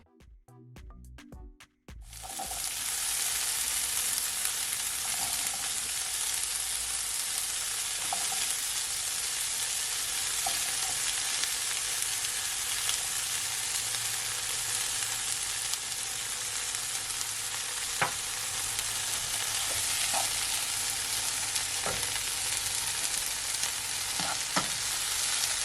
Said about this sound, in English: I'm just gonna saute my mixed vegetable